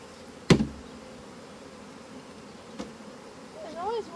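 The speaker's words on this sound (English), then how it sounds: "those bees are just going to have to get off" Honeybees buzz around a hive while a new colony is being set up on a homestead, giving a soft, steady hum. A sharp knock or thud comes near the start and a fainter one later, and brief higher whines drift past close by.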